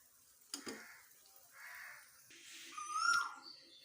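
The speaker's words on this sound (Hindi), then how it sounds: "साथ आप कोयल की आवाज़ भी देखें, सुने कितने मज़े का बोल रही है" An Asian koel calls in the open air, several faint rising notes spaced over a few seconds, distant and thin over a quiet background with light kitchen clatter.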